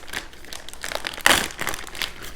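A plastic sausage bag being ripped open by hand, a close, crinkly tearing rustle that builds into one sharp rip in the middle before a few softer crackles.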